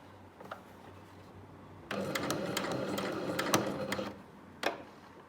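A sewing machine stitches a bound buttonhole in short bursts: a lone tick, then a rapid run of clattering stitches for about two seconds, and one last quick stitch, all close and fairly quiet.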